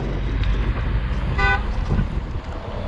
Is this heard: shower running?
no